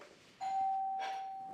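A two-tone doorbell chimes once in a quiet room, the first note ringing out and fading under the second, with a faint clink at the end.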